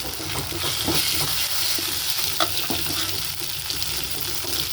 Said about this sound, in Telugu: అల్లం పేస్ట్ వేసుకున్నా బాగా ఫ్రై చేసుకున్నాం దీంట్లోనే కొత్తిమీర కరివేపాకు వేసుకున్నాం